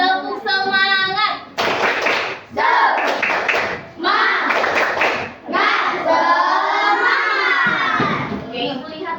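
Schoolchildren in an Indonesian elementary classroom perform a rhythmic clapping chant, bursts of hand claps alternating with loud shouted group chanting from many young voices, close and energetic, with an adult voice speaking in between.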